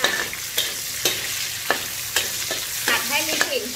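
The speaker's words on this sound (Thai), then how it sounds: "ผัดให้หอมเลยนะคะ" Food sizzles in a hot wok while a utensil scrapes and clanks against the metal in a repeated stir-frying rhythm, close up.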